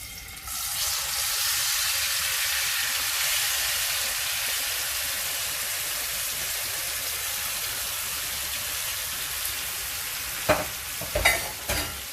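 Mince dropped into hot oil bursts into a loud, close, steady sizzle that holds for about ten seconds, then a few scraping stirs and clatters near the end.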